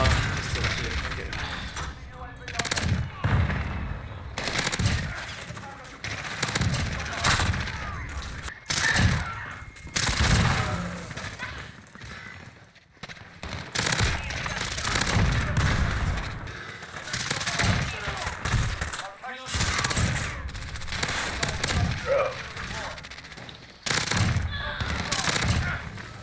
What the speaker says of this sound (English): Yo, this pistol is fucked. So loud as hell.